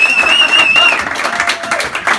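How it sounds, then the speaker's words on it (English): Studio audience on a quiz show claps for a contestant, a short burst of dense applause with a faint whistling tone at the start and voices mixed in. "can I have a round of applause please?"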